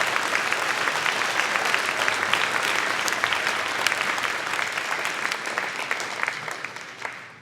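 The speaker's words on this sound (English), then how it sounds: "let's give them all a big round of applause" A concert audience at a junior high retirement concert breaks into sustained, loud applause that fills the room and tapers off at the end, with no talking.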